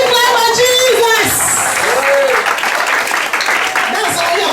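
A church congregation claps steadily through a sermon, a dense wash of applause that stays loud throughout while a voice talks over it.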